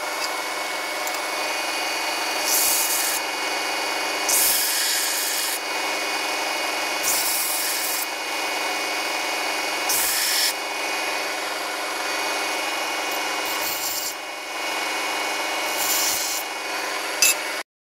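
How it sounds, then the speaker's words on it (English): A metal screw bracelet is sanded by hand in long, even rubbing strokes, each pass a loud, close, gritty rasp with short pauses between, no talking. "Some more sanding."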